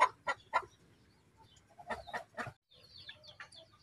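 A Rhode Island hen on a mango farm clucks in a series of sharp, close calls, first spaced out and then in a quicker cluster, with faint chirping birds in the background.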